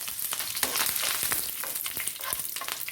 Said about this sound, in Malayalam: കുറച്ച് കടുകിട്ട് കൊടുക്കാം. ഇട്ടിട്ടുണ്ട്. ഇതിലേക്ക് കുറച്ച് കരിയാപ്പില ഇട്ട് കൊടുക്കാം.